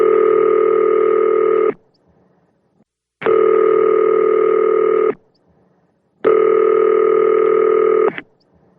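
A telephone rings in three long, steady bursts separated by short silences, loud and clear with no talking.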